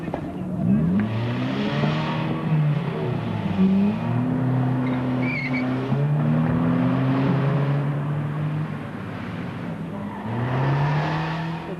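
A getaway car driven by robbers accelerates hard, its engine revving up through several gears with rising whines and brief tire squeal, loud and close and then building again toward the end.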